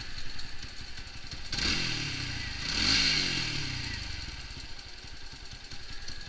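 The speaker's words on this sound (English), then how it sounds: "See how the idle is stable just there, and there is a nice hum to the engine." A warmed-up motorcycle engine idling steadily after carburettor tuning, a continuous even putter with a brief swell in the middle, heard close up with no talk.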